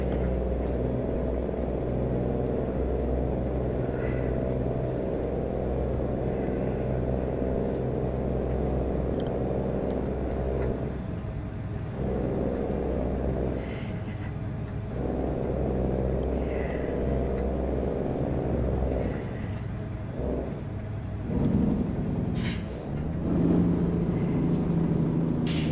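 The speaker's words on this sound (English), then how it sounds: "They just want to hear the sound of the truck" A heavy truck engine in American Truck Simulator drones steadily with low rumbling, a faint high whine above it, and a brief hiss of air brakes near the end.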